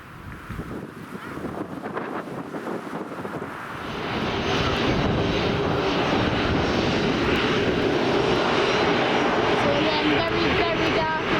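A Jet2 Boeing 737-300 arriving from Nice rumbles with wind buffeting at first, then its engine roar swells and holds loud and steady to the end.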